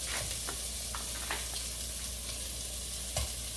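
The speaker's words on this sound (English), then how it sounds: "Get a good sizzle on it." Sausage sizzles steadily in a hot pan, a soft crackling hiss with occasional stirring scrapes and clicks, no voices.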